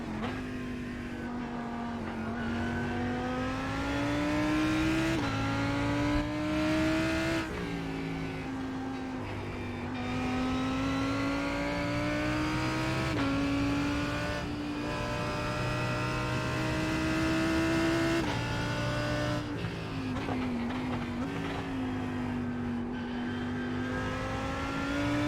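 Race car engines drone in a GT sprint racing simulator game at Okayama, a steady high-pitched engine note rising through the gears with repeated upshifts and dips, loud and continuous for the whole stretch with no talk.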